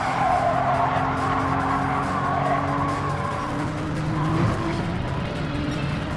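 A 1995 Porsche 911 (993) in Gran Turismo 7 at Alsace Village, engine droning loud and close while tires squeal and skid through a corner.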